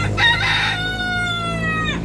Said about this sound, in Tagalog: May manok pala sila dito.